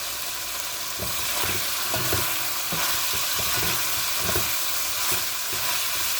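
Oil sizzling and crackling steadily in a hot pan, loud and close, with a continuous frying hiss and scattered pops, no voices.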